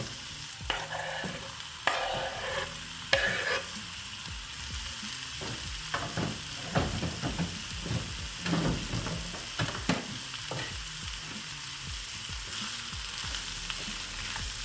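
Meat goes into a frying pan for solyanka and sizzles steadily at a low level, with intermittent stirring scrapes and clinks and no voices.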